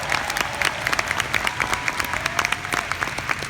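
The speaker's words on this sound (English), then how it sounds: "give them a Weld round of applause for the job they did this year" Seminar audience claps in a round of applause, individual claps distinct and sharp over a lively crowd wash, steady throughout.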